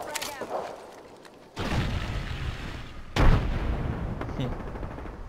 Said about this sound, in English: they're getting shot at from the other side too